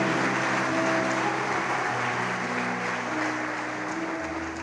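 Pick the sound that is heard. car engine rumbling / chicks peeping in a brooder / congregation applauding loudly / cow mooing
congregation applauding loudly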